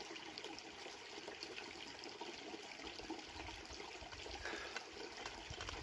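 A small forest stream flows in quiet woodland, its water trickling and gurgling steadily at a faint, even level with no voices over it.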